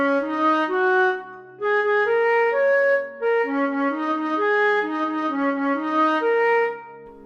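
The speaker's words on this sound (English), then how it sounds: "You've also got Jack's theme," Jack's theme from the musical Into the Woods, a smooth, flowing instrumental melody of legato notes in a gently rocking pattern, played alone at moderate volume in three connected phrases.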